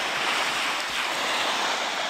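Surf washes onto Ōmura beach on the Toyama Prefecture coast of Japan as a loud, close, broad hiss, mixed with gusty wind buffeting the microphone, and no voices.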